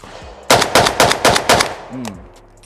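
Five rapid rifle shots ring out through a JMac RRD 4C muzzle brake, loud and sharp in an even rhythm, followed by a short voiced sound and fading echo.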